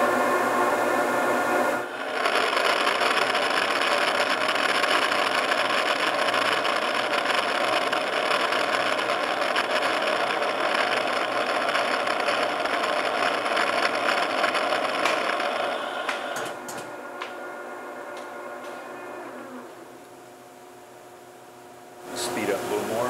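A metal lathe boring the inside of a large gear, a steady whirring machine hum with a high cutting whine that holds for over ten seconds, then eases and tapers off as the pass ends.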